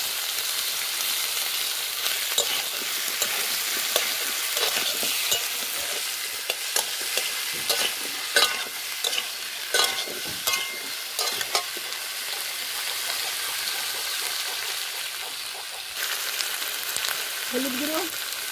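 Ginger and cumin paste fries in a pan, a continuous bright sizzle with frequent scraping stir strokes across the pan, close and steady throughout, with a brief faint voice near the end.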